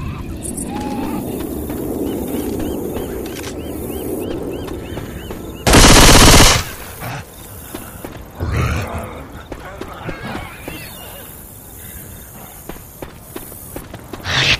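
Gunfire in Left 4 Dead 2 erupts as one loud, short automatic burst amid running footsteps and busy game ambience, with a few softer shots and clatters afterward.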